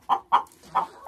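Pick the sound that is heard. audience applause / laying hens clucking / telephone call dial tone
laying hens clucking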